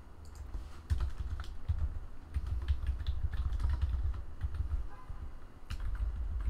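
Fast, uneven clicking of keys on a computer keyboard, close and clear, with brief pauses between bursts and no talking.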